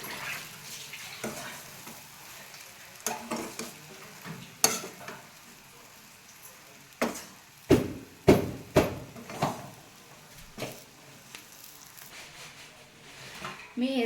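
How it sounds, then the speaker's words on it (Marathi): Poha being stirred and mixed in a hot pan for churma poha, with repeated scraping and clattering strokes over a soft sizzle, loudest in bursts toward the middle. "आणि याला चांगलं मिक्स करून घेते।"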